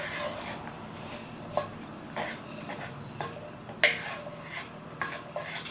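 Chopped onion and serrano pepper stirred in a pan with a spoon, soft scraping strokes and a few light metallic clinks over a faint low sizzle, quiet and close, no voices.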